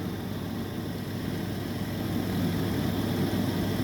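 A Hyundai Sonata V6 that is overheating and puffing smoke idles steadily, giving off a close, continuous low rumble with a faint rise in level partway through and no talking.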